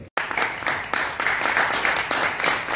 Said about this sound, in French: Merci de l'applaudir plus fort